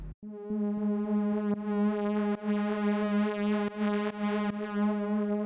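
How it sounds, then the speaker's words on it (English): An Omnisphere Synthwave synthesizer pad holds a sustained, buzzy low tone with bright overtones that pulse and swell slightly, alone and steady. "Then we have this sort of pad thingy from Omnisphere"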